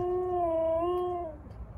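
A dog gives a single drawn-out howl, clear and fairly close, holding a steady pitch before trailing off and fading into quiet background.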